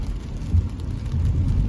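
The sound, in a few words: rain while driving a car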